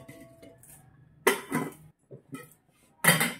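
A metal pot lid clanks down twice onto a pot of boiling crabs, sharp close knocks separated by quiet kitchen moments and a few softer rattles.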